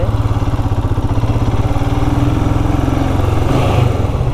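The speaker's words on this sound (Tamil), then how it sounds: "இப்போ என்னென்னா டபுள் ஸ்டாண்டில் வந்துட்டு உரசிக்கிட்டே இருக்குது" A motorcycle on a road trip from Vellore to Salem, with its double stand scraping the ground, runs with a loud, close, steady pulsing engine chug that stays even throughout, no talking.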